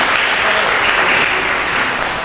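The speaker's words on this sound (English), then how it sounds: "Yes, you should applaud Caroline." A library audience applauds a colleague at an autism-services grant event, with steady dense clapping filling the room throughout and no pauses.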